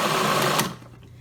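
An electric blender purees canned whole San Marzano tomatoes, a loud steady whir that runs close and alone for most of a second before cutting off into a quiet tail.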